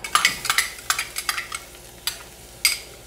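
Onion sliced thin sizzling in a spoonful of melted butter in a frying pan, with a quiet steady crackle broken by several sharp spoon-and-pan clatters as it is stirred.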